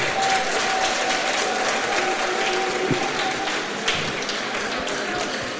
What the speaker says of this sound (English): may you give a hand of applause to the both candidates